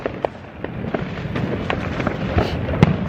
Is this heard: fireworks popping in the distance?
yes